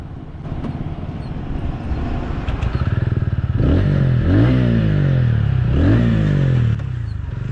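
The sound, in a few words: TVS Ronin motorcycle engine revving on highway ride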